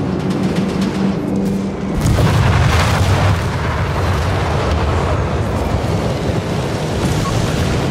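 Artillery shells land in a Company of Heroes 3 battle, a deep boom followed by a heavy, sustained rumble that stays loud throughout.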